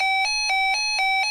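A Reecom R-1630C weather alert radio sounds its warning tone: a bright, bell-like electronic chime pulsing rapidly about four times per second, loud and close, with no other sounds.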